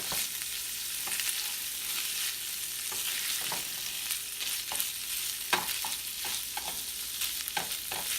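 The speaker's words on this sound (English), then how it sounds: "Just listening to it sizzle" Chorizo sizzles steadily in a frying pan, a constant crackling hiss broken by occasional scraping taps of a utensil stirring.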